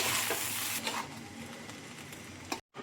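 Poha with turmeric is stirred in a pan, making a soft, continuous scraping rustle with a faint sizzle, quiet and without speech, ending in a brief cutoff.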